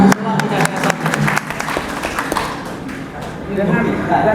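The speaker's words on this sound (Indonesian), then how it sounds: "Tepuk tangan dulu Bapak Ibu." Audience applause after a demonstration of smokeless diesel fuel, a burst of scattered clapping from a crowd in a hall that thins out and then swells again near the end.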